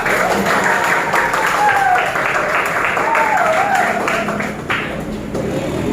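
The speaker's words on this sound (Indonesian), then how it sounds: "Ayo, silakan tepuk tangan untuk kelompok 3." Students in a classroom applaud group 3, a sustained patter of clapping hands that runs steadily for several seconds beneath a speaking voice, dipping briefly near the end.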